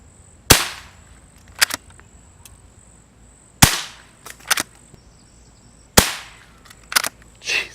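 Three sharp, quiet cracks from a .22 rifle firing CCI Quiet rounds, spaced about three seconds apart, each followed by faint clicks of the action; close and without talk.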